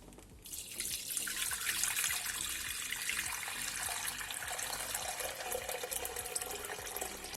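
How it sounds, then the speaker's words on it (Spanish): Tap water pours into glass jars being filled for pickled broccoli, a steady splashing stream running close and continuous after a brief quieter start. "Vamos a poner nuestros botes. Vamos a llenar con agua."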